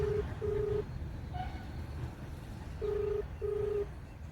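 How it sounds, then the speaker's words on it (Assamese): A phone keypad sounds dialing tones, two quick beeps, a pause, then two more, faint over a low background hum. "এতিয়া আমি ফোনটো কৰোঁ"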